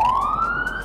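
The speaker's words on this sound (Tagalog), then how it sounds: "Ang lakas ng ambulansya nila dito." An ambulance siren wails loudly outside Big C Supermarket, its tone sliding steadily upward in one continuous sweep.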